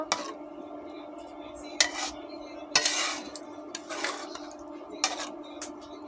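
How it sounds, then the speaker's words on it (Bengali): A metal spoon stirs hilsa fish curry in a pot after water is added, making several sharp clanks and scrapes against the pot over a quiet background. "এখন আমি পরিমাণ মতো জল দিয়ে দেবো। এবার আমি ভালো করে নেড়ে দেব।"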